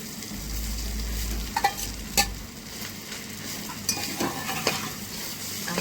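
Khichdi tipped into a hot spiced pan and stirred, a steady sizzle with scraping stir strokes and a few sharp clinks, close up with no talking.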